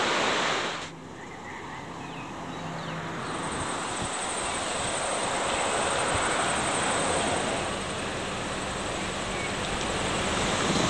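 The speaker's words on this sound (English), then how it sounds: "We're here at the Aratia Rapids, where the water builds up and is released." Water rushing through the Aratia Rapids below a dam, a loud, steady broadband roar of churning white water that continues without a break and sits close and full throughout.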